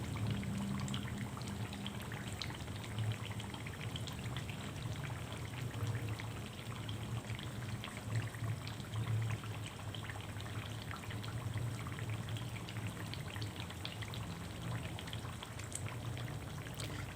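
Battered tempeh deep frying in a generous amount of oil over a medium-low flame, giving a steady, dense crackling sizzle like light rain that runs unbroken throughout with no voices.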